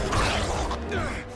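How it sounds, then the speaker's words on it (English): Roller coaster tracks clatter and creak as a sound effect in a BBC Sherlock scene of a morgue vision, a brief dense rumble of mechanical rattling with a low swooshing undertone, close and moderately loud. "the sound of roller coaster tracks in this vision that Sherlock has of himself being pulled out of the morgue"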